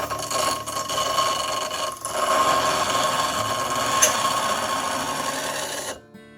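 Woodturning parting tool pressed to a spinning bench grinder wheel for sharpening, a loud continuous grinding rasp with small surges that runs for about six seconds and then cuts off abruptly.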